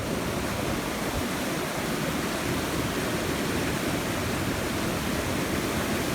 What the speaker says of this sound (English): this weir is built so that it channels the water down along there to feed that pond down there